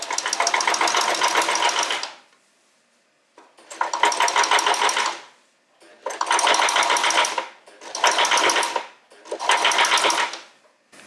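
A sewing machine stitches a seam in canopy fabric, running in five loud, close bursts of about two seconds each with short pauses between them.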